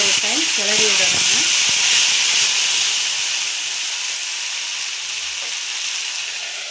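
Potato fry sizzles in a covered pan over a low flame with a loud, steady hiss of steam and frying throughout. A voice speaks briefly at the start, and the sizzle eases slightly toward the end.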